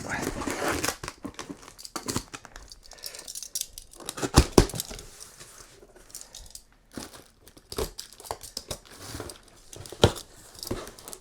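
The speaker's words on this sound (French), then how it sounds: "on va ouvrir le colis. Voilà, je fais doucement." A surprise parcel box from Warlord Games is cut and unpacked on a table, with scissor snips, crinkling packaging and tearing in close, irregular bursts, some louder clatters between quieter rustles.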